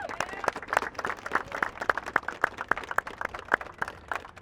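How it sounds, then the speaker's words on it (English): Audience clapping at a pregame event, a scattered round of applause with irregular sharp claps of moderate loudness, steady throughout without much crowd cheering. "I really need you guys to give H2O and Lieutenant Mike a big round of applause."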